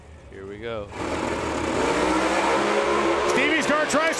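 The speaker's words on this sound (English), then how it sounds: "What a drag race to the finish line." A street-legal drag race car at Bradenton Motorsports Park revs and then launches, its engine roar rising abruptly into a loud, sustained rumble while an announcer talks over it.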